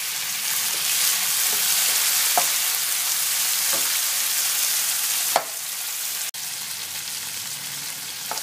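Tomatoes fry for tomato pongal in a pan, giving a steady, close hiss of sizzling oil. Faint scrapes and light clicks of stirring come through now and then.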